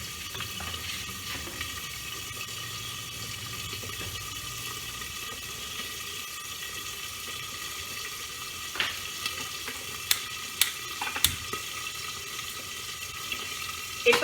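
Tyangra fish coated in salt, turmeric and oil frying in hot oil in a kadai over a high flame, with a moderate, continuous sizzle and a few sharp pops and crackles toward the end.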